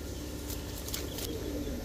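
A female pigeon, a blue ash-eyed hen with a full crest, coos softly amid a busy pigeon market, with low throbbing calls blending into steady background noise and other birds.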